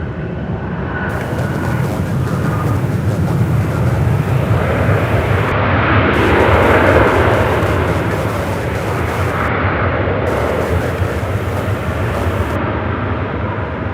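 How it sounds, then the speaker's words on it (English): Jet aircraft at Charlotte Douglas airport taxiing to the runway and taking off, a loud continuous engine roar that swells to a peak midway and then slowly recedes into the distance. "Got a slew of aircraft taxiing over to 18 center for takeoff."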